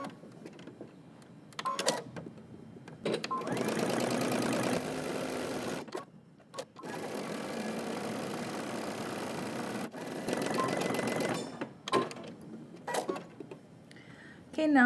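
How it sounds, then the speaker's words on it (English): A sewing machine back stitches and then stitches fabric around a seam. Several rapid, whirring bursts of needle rhythm run for a few seconds each, separated by short pauses with brief talking. "I'm going to back stitch and I'm going to stitch all the way around, but I'm going to leave a 2-inch opening"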